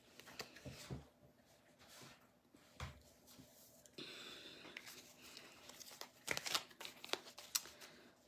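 Soft riffling and flicking of a deck of cards being shuffled, irregular bursts of papery clicks with quiet gaps, close by.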